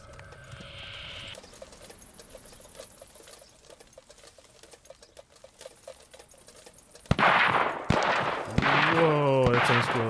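Gunfire in the battle royale video game Cuisine Royale, a few sharp distant shots early followed by louder, nearer cracks and rapid bursts mixed with game ambience.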